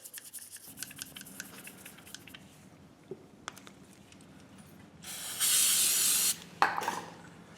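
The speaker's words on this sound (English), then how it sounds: "spray the brush, not the throttle body itself" A few quiet taps and rustles, then a loud sustained hiss of aerosol cleaner sprayed onto a brush for a 2008 Silverado throttle body, lasting about a second, followed by a short second burst.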